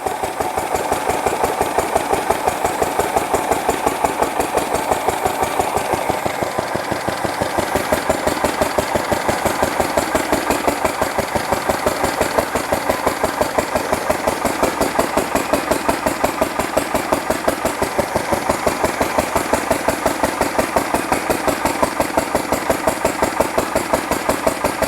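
Fowler PA1 engine running under load, a steady rapid chugging beat with a rough mechanical clatter, close and loud, continuous and even throughout with no voices.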